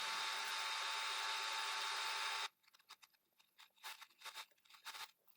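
A drill bores with a 10.2 mm bit, first as a steady loud whining grind for a couple of seconds, then stopping into a series of short scraping and crunching bursts.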